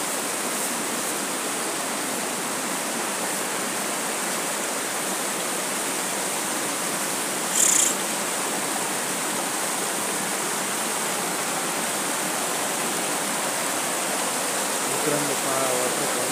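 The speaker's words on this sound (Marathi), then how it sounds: "पहा आता हा वॉटरफॉल आहे समोर छोटासा" A small waterfall in Nigeria makes a constant, full rushing roar, close and steady throughout, with no voices over it.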